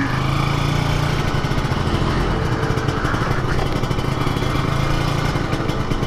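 A stationary Kawasaki Ninja RR motorcycle with a 4-piston brake caliper setup sits idling on a quiet roadside, its engine a steady, loud continuous drone throughout with no talk.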